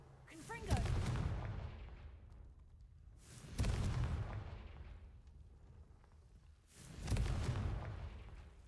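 Three deep booming blasts of the Confringo explosion spell from a Harry Potter video game, each a sharp crack rolling into a long rumbling decay, spaced a few seconds apart.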